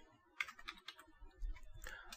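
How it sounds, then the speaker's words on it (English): Typing on a computer keyboard while entering a CeWL wordlist command in Kali Linux: a quick, irregular run of close, crisp key clicks at fairly low volume with no talk. "So I'll go ahead and type Kali"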